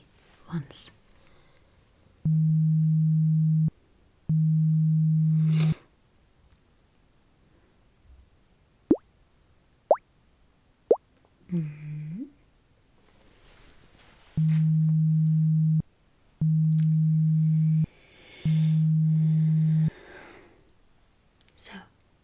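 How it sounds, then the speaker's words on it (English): Hearing test for an ASMR session: steady pure-tone beeps in two groups of several, with sparse bubbly chirping tones and quiet whispered speech between them. "Ignore the standard beeps, just the bubbly ones."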